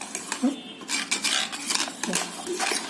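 Wheat flour batter for soft dhirde pancakes being stirred and beaten to break up lumps, with a spoon clinking and scraping against a bowl in quick, uneven bursts, close up with no talking.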